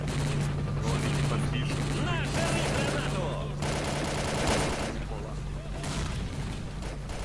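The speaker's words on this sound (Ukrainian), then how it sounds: "О, гранати пішли." Grenade explosions and gunfire in S.T.A.L.K.E.R.: Call of Pripyat, dense bursts of shooting and booms under continuous game noise and a steady hum, with a player talking over much of it.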